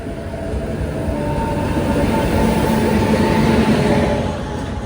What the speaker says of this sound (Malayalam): നീലേശ്വരത്ത് നിന്ന് മംഗളൂരു സെൻട്രലിലേക്ക് ഞങ്ങൾ പോകുന്ന ട്രെയിൻ ഇതാണ്.